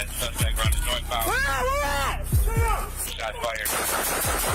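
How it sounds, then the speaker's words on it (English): Several sharp gunshots crack in an irregular volley amid shouting voices and chaotic commotion. "Shots fired."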